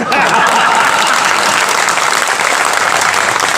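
Dense, loud applause from a crowd at a live Hindi comedy show in Narwar, a continuous roar of many hands clapping that stays even throughout with no voices on top.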